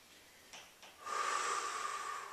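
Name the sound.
slow deep breathing during Pilates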